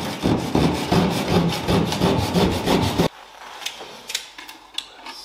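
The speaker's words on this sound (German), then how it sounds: "Ich habe dazu so eine kleine Trockenbausäge, wo man auch manchmal so kleine Löcher reinsägen kann." A small drywall saw cuts through plasterboard in quick, rhythmic back-and-forth rasping strokes, close and loud for about three seconds, then stops, leaving faint handling noises.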